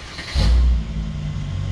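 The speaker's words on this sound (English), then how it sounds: "Let's get a little exhaust clip." A tuned Mercedes C250 with a DEVTEC Stage 2 exhaust gives one short, loud rev. The deep rumble swells quickly, then settles back to a steady idle with no talking.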